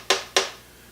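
Two sharp, dry taps on a piece of dry beef jerky sound in quick succession, close and crisp, each with a brief papery rattle before fading.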